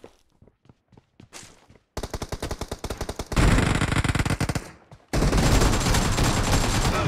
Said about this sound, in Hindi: ये पट पट करके मार रहा है, ये शॉट गन है इसके पास